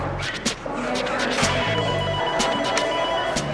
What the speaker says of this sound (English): Phones are back on.